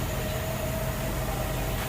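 Local passenger trains stand at a station platform in Thailand, giving a steady low idling rumble and hum with a faint tonal whine, continuous and moderately distant, with no talk.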